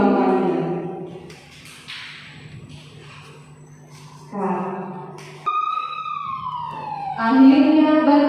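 Rising and falling wail of an ambulance siren in a school drama production, starting faint and swelling louder and closer across several sweeping tones.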